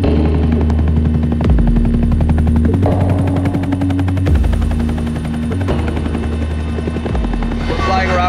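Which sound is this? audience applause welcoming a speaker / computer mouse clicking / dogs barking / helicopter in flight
helicopter in flight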